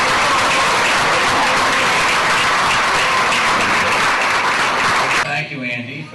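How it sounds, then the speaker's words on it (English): An audience claps to welcome a speaker, a loud, dense wave of applause that keeps going evenly before it breaks off abruptly near the end, where a voice begins. "Please give a big hand in welcoming India."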